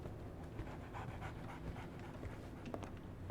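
A dog pants steadily and close by in the Sherlock Holmes: The Awakened video game, quick rhythmic breaths over a faint background.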